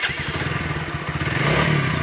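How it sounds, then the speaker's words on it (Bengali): A TVS Apache 4V 160 motorcycle started by its electric self-starter: a short whirring crank that catches into a close, steady idle with rapid low pulsing engine beats. "সুইচে সেল মারি।"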